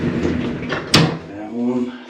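An outside door swings shut with a single sharp knock near the middle, while people talk before and after it.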